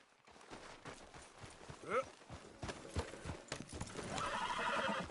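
Horse hooves clip-clop steadily in the Red Dead Redemption 2 video game, with a brief horse whinny partway through and a broadening wash of ambient sound toward the end; no talk.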